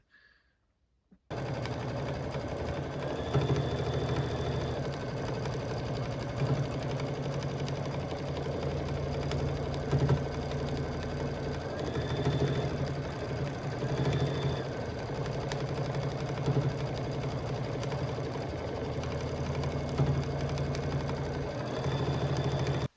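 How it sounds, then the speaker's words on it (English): A Baby Lock Luminaire sewing machine stitches quilt sashing, its steady motor hum and rapid needle chatter running continuously and close for about twenty seconds, with faint periodic electronic tones above the mechanical whir. "let's go ahead and sew it out, see what it's going to look like"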